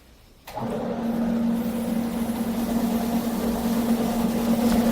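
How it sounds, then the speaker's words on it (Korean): Electric motor on a shower filter test rig switches on after a short quiet lead-in, then runs steadily with a constant low hum and broadband whir that stays close and loud to the end. "스위치를 한번 올려서 모터를 가동시켜 보도록 하겠습니다"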